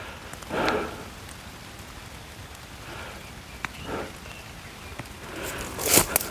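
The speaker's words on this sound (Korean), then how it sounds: "아, 비가 와서" Rain falls steadily in a mountain forest around 600 m up, near wooden beehives, a soft continuous patter with a few louder drip bursts and brief rustles, no talk.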